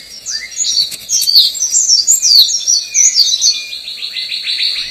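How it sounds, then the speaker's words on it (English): Birds of paradise call in the jungle-covered highlands of New Guinea, a loud, busy chorus of overlapping chirps, whistles and rapid trills that runs without a break. "birds of paradise."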